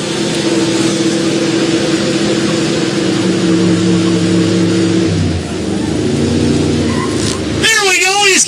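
A pickup truck nicknamed Old Blue revs hard in a burnout competition at a truck festival in Billings, Montana, its engine droning loud and steady before dropping and climbing again as it shifts into second gear.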